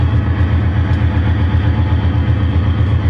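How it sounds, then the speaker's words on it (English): A big locomotive engine at the Exporail railway museum runs with a loud, steady low rumble and throb heard from inside the cab, continuous and without talk. "Well, that engine was pretty loud."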